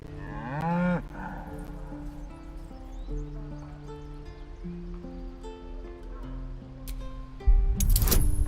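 A cow moos in a video game, drawn-out low calls at the start, then a game music bed of sustained tones runs underneath, ending in a loud burst of noise.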